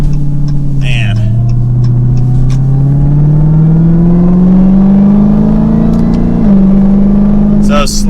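Dodge Charger SRT Hellcat Redeye accelerating gently up to 60, its deep exhaust rumble climbing steadily in pitch through a gear change, loud from inside the cabin.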